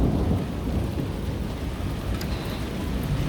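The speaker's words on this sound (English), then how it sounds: "And there's more thunder." A violent thunderstorm with heavy rain roaring steadily and thunder rumbling low underneath, loud and close, with no voices.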